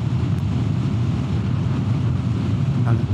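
Loud, steady wind roars and buffets the microphone throughout, a constant low rush while riding a Lambretta G350 scooter at high speed into a headwind.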